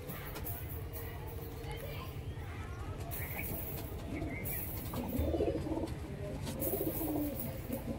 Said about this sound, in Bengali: এটাও কিন্তু সিঙ্গেল একটা নর পায়রা